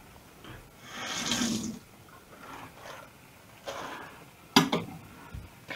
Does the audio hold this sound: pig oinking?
no